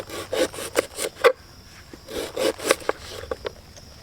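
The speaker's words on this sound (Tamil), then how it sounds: "கட் பண்ணையில் வந்து எல்லா தண்டும் ஒரே மாதிரி இருக்கிற மாதிரி கட் பண்ணிக்கோங்க" Plant stems being sliced thinly with a knife for frying, giving a run of rough, rasping strokes in two bursts, close and fairly loud, with no speech.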